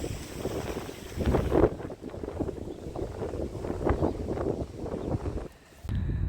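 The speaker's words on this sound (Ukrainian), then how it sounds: "Там дуже сильний вітер, дуже сильний." Strong wind by the sea in Shevchenko Park, Odesa, buffets the microphone in a heavy, rumbling roar that surges and dips, briefly dropping near the end before gusting again.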